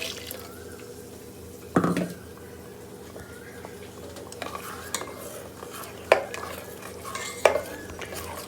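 Fish sambar is stirred in a pot as it comes to a boil: a ladle scrapes and clinks against the metal a few times, with sharp knocks standing out over a quiet, low cooking hiss.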